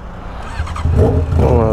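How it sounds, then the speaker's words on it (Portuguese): Motorcycle engines rumble and rev nearby, growing louder partway through, with a voice speaking over them. "Tem umas motos lá, ó."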